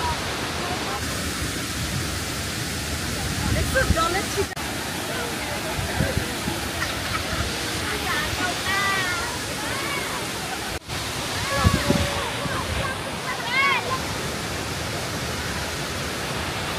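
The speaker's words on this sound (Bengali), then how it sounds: "সেই রকম একটা ঝর্ণা, ওয়াও!" Wachirathan Waterfall on Doi Inthanon in Thailand, an 80-metre cascade, roars as a steady, broad wash of falling water close by, with voices talking over it at times.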